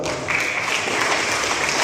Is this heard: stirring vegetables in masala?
no